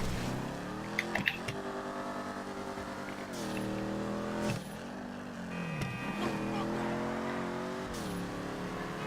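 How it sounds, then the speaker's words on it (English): Engine of a Dominator muscle car in GTA revving steadily, a loud sustained drone with rising and falling pitch sweeps and a few sharp throttle blips, continuous throughout with no talk. "I just love the way the Dominator sounds. I think it's one of the best sounding cars in the game."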